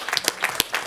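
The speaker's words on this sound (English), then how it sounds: "Thank you for your applause" Brief scattered clapping from a morning conference audience, a handful of distinct claps over less than a second.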